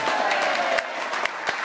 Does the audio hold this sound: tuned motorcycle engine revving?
no